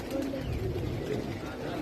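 Soft pigeon cooing rumbles low and continuous, many birds of various breeds blending into a steady murmur with faint background noise.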